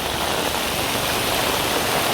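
Heavy rain pours down during flooding in Dahanu, a dense, steady, loud hiss of water with no break and no talk.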